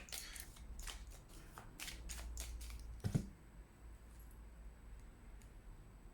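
A deck of playing cards is riffled and cut at a table, giving a quick burst of close, crisp flutter clicks and taps early on, then a soft thump and quieter handling, faint overall with no speech.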